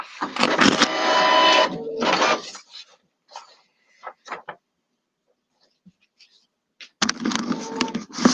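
An office printer feeding and printing two pages, with loud mechanical whirring bursts, a long quiet gap with small clicks, then printing resumes.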